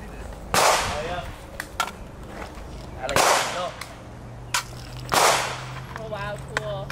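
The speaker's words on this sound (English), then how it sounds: "I gotta shoot the AK." AK rifle firing at an indoor shooting range in Tampa, Florida: three loud, sharp gunshots spaced a few seconds apart, each with a short echoing tail and faint background chatter.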